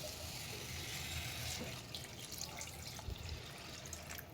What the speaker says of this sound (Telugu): ఇలా నీళ్ళు వేసేసుకొని బాగా మిక్స్ చేసుకుందాం